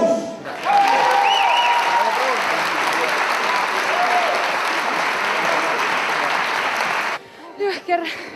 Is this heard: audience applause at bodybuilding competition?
yes